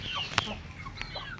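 Newly hatched Bangkok chicken chicks give high, thin peeps and cheeps, with one sharper chirp standing out over a soft, busy background of faint peeping.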